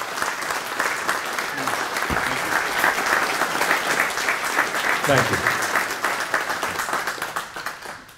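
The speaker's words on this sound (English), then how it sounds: "how about a big round of applause for my two colleagues here?" An audience gives a steady, full round of applause that holds for several seconds, with someone briefly speaking over it before it tapers off.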